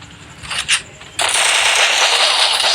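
A double-barrel shotgun fires in a mobile shooter game, a single sharp blast followed by a loud, sustained, hissing roar that carries on to the end.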